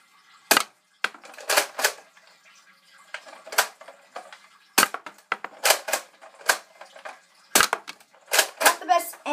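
A Nerf Recon toy blaster is handled and fired, a string of sharp plastic clacks and snaps as it is cocked, loaded and shot, close and fairly loud in short bursts with quiet gaps.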